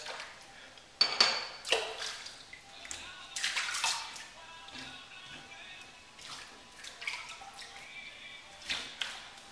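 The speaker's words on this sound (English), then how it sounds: "So now a cold water rinse and close off the pores. Let the water run down the drain." Tap water running and splashing into a sink basin and down the drain during a cold-water rinse after a shave with a Feather all-stainless safety razor, with intermittent louder splashes and clinks close by.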